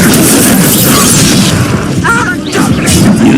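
An Incendio fire spell bursts in Hogwarts Legacy: a loud, dense, roaring blast of flame that rumbles steadily for several seconds, with a brief dip near the end before it surges again. A short voice-like fragment is mixed into the roar.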